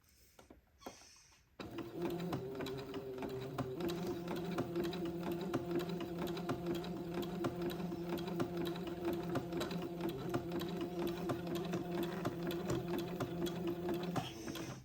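After a brief quiet start, a sewing machine runs steadily for a long stretch while attaching lace to a baby bonnet, its fast, even motor hum and needle clatter close and moderately loud.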